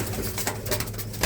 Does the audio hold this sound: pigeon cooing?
yes